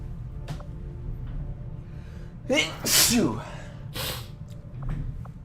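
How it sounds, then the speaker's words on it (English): One loud, close sneeze with a sharp intake of breath just before it, followed by a quick sniff over a low steady hum. "I need to sneeze."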